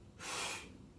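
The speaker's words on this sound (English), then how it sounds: "Taking my breath in" A sharp, quick breath drawn in through the nose and mouth before a squat, a single close airy inhale lasting under half a second in a quiet room.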